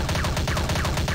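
Rapid video game gunfire from Commando 2, a dense, steady stream of loud shots with a rhythmic, repeated burst pattern and no talking over it.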